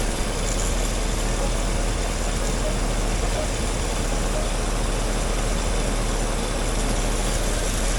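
A Chevy 283 V8 idles steadily throughout while its vacuum advance is checked, a constant, loud engine drone with dense low rumble, the speed staying even and no voices heard over it.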